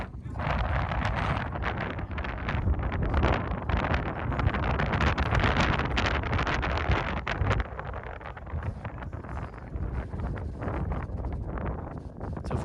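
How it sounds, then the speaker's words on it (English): Strong wind buffeting a microphone in a recording filmed outdoors on a windy mountainside, a loud, continuous roaring rumble with gusty swells that eases somewhat toward the end. "Sorry about the noise. It was very windy."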